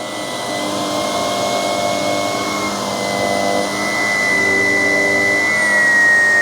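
Ecovacs X11 Pro robot vacuum running steadily, a loud continuous motor whir with a high tonal whine that holds unbroken and grows slightly louder toward the end, with no voices.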